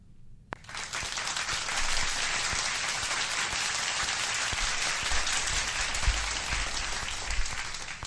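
Warm applause from a talk-show audience welcoming a guest named Luana, a dense, steady wash of many hands clapping that starts abruptly and holds at an even, fairly loud level throughout.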